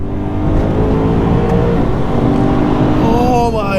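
An E90 BMW M3 accelerates hard, its engine roaring loud and continuous from inside the cabin with rising pitch as it pulls through the gears.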